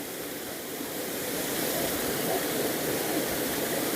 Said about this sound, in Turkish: karların erimesiyle güzel Güzelyurt'taki göletimize hızla giden suların şırıltılarını dinleyin arkadaşlar